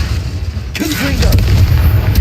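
An explosive Confringo spell cast in Hogwarts Legacy: a sudden loud boom with a burst of crackling energy, followed by a rumbling tail and a faint voice-like tone within the blast.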